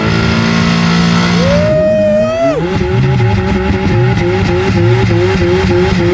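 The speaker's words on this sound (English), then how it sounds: "Listen to that M3, guys." A BMW M3 race car's turbocharged six-cylinder engine revs hard and climbs in pitch, then shifts and keeps pulling loudly, with a second engine, a Ford V8, droning underneath during a drag race.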